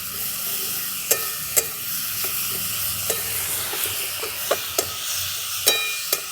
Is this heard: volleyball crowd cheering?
no